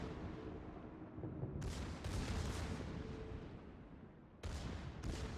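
The Bismarck's secondary guns fire in the naval combat game World of Warships, a rumbling barrage punctuated by sharp booming salvos, two close together near the middle and two more toward the end.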